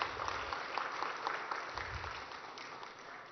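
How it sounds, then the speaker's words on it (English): Quiet audience applause for the Governor of Maharashtra at an awards event, a soft continuous patter of many clapping hands heard from a distance, fading slightly toward the end. "Let's give the Governor a very, very warm round of applause."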